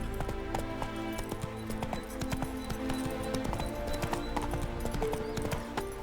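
Roach the horse galloping in The Witcher 3: Hearts of Stone, a steady rapid clip-clop of hooves over game music, close and continuous with a faint snort or whinny.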